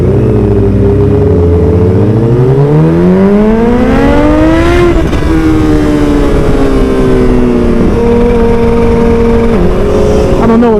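A 2016 Kawasaki Ninja H2 motorcycle ridden through downtown Medina, its engine loud and close as it revs up through rising pitch and then holds a steady cruising drone with small shifts.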